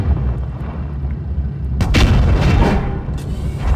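Tank cannon fire in World of Tanks Blitz, with a low rumbling background giving way to a loud, sharp boom near the middle that decays into a broad, sustained crackling roar.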